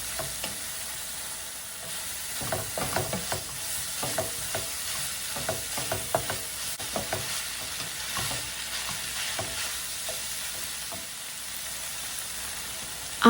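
Stuffed bell pepper filling stirred in a pan, the spoon scraping and tapping in a busy irregular rhythm over a low frying sizzle, close by, then easing off toward the end, with no talking.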